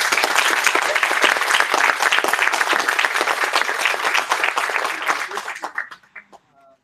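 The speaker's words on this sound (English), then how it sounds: "round of applause." An audience at a Security of Things meetup breaks into loud, dense applause to welcome a speaker, sustained clapping that thins out and fades to a few scattered claps at the end.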